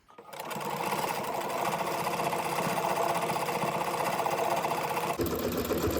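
A sewing machine runs steadily for about five seconds, stitching a straight seam on a cross-stitch fabric tote bag, then stops abruptly; close and loud, with no talking.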